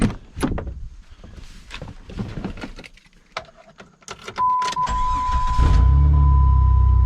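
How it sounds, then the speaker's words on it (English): Keys jingle and a Jeep door thuds, a brief chime rings, then the engine cranks and starts, settling into a loud steady idle close by. "I'm gonna start the car."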